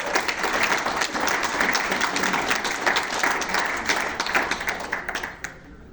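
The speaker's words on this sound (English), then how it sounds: "Give yourself a round of applause." An audience at a business gathering claps in a dense, sustained round of applause that holds steady and loud for several seconds, then tapers off abruptly near the end.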